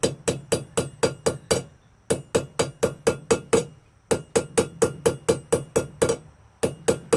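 A blacksmith hammers hot pipe to forge a taper, landing loud, sharp blows in quick bursts of about six or seven strikes, with short pauses between each burst.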